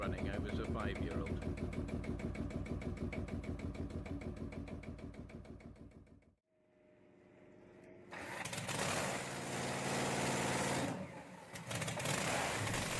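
A restored vintage engine runs with a steady, rhythmic mechanical chugging that is loud and close, cuts out briefly midway, then gives way to a harsher, noisier running roar.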